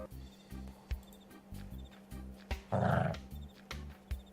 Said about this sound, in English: That darn dog is guarding his neighborhood.